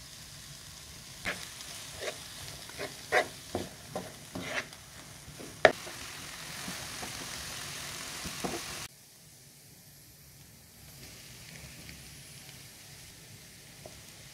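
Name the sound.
onions, peppers and garlic sautéing in oil in a pan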